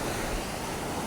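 Sea waves washing onto a Philippine shore in the morning, a continuous broadband roar of surf with no distinct breaks, steady and fairly close, with no talking.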